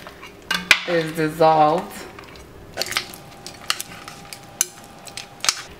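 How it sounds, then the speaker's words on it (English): Metal spoon clinking and scraping in a pot while stirring goat stew to dissolve bouillon, a few sharp knocks after a voice speaks briefly. "I'm just going to mix it up and make sure that the bouillon that I put in there"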